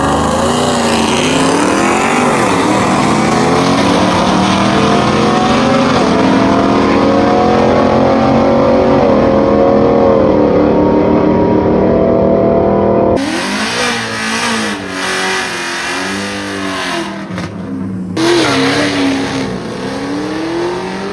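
Drag race car engine roaring loud and close under hard acceleration, pitch climbing steadily before abrupt drops at the gear shifts, then rising again.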